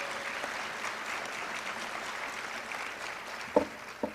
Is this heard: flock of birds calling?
no